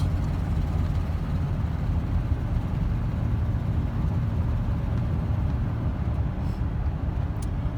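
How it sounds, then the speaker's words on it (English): Chevrolet Silverado extended cab 4x4 truck engine idling with a slight exhaust leak, a steady low rumbling drone, close and continuous with no talk. "slight exhaust leak."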